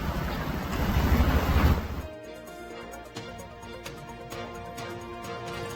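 Floodwater rushes along a city road after heavy rain in Gujarat, a loud, churning roar for about two seconds that then gives way to a much quieter background.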